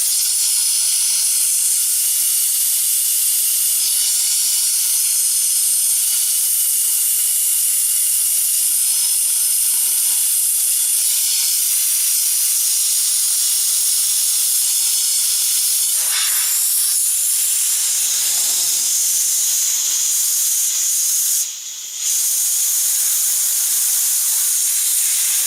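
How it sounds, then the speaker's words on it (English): Compressed air blows through a dirty lawn mower carburetor on a Toro Recycler, a loud, steady close hiss lasting throughout with a brief dip near the end. "So, let me blow some air."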